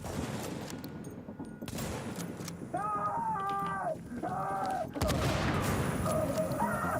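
Gunfire in The Division, scattered shots and bursts in a busy game firefight, mixed with voices and tonal game sounds, fairly faint and cluttered, with a sharper burst near the end.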